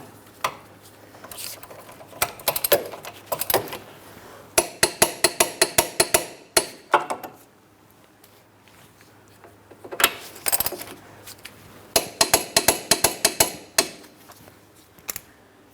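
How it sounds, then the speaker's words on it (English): A ratchet wrench tightens the front wheel hub assembly bolts to 96 foot-pounds on a 2003-2007 Cadillac CTS, producing close, sharp bursts of rapid metallic clicks separated by short pauses. "Now that they're snug, I'm going to torque them to 96 foot-pounds."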